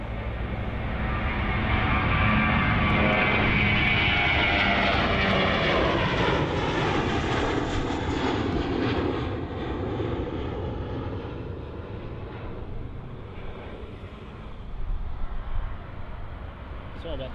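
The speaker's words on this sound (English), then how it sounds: "Here's a Finnair A321 departure on runway 22 right." Finnair Airbus A321 departing runway 22 right at Helsinki Airport, a loud jet roar that swells over the first seconds, sweeps in pitch as the plane passes, then slowly fades while staying strong to the end.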